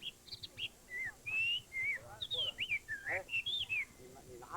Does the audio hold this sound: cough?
no